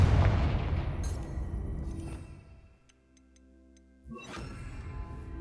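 Confringo fire spell cast in the Hogwarts Legacy video game: a loud, booming blast that rumbles and fades over a few seconds, then a sharp crack and a fainter burst, with no voices.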